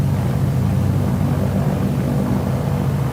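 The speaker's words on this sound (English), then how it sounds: "Wait till the engine has recovered to the full 1700 RPM." A Catalina patrol plane's radial engine runs steadily at high power near 1700 RPM, a loud, continuous low droning rumble with no talk over it.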